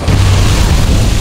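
A lunar bomb goes off in Monster Hunter World, one loud, close, booming blast with a heavy low rumble that fills the moment, no talk over it.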